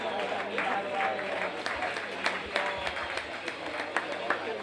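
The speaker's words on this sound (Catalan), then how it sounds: "Un fort aplaudiment per a aquests atletes." Stadium crowd applauding track athletes at an athletics meeting medal ceremony, a broad wash of clapping with scattered sharper claps, steady and moderately distant, with voices murmuring underneath.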